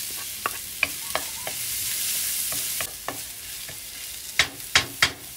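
Chicken drumsticks, onion and garlic frying in a non-stick pan, a steady sizzle punctuated by repeated scraping stirs and a few sharper clacks near the end, close and clear with no talk.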